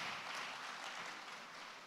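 Audience applause at a leadership program commissioning ceremony, a continuous wash of clapping hands from a crowd, fairly distant and soft, tapering slightly toward the end.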